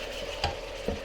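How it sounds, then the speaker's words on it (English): Onions sizzle and crackle in hot ghee, a steady frying hiss broken by a couple of soft stirring knocks, close by with no talking. "Now they get 10 minutes frying away in that ghee just to brown up a bit."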